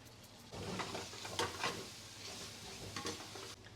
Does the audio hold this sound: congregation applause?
no